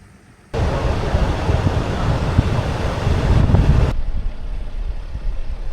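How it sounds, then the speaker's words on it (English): Gusts buffet the microphone at Elberta Beach, a loud broadband roar of wind and surf that rises suddenly, holds for about three seconds, then drops back to a quiet background. "Welcome to Elberta Beach."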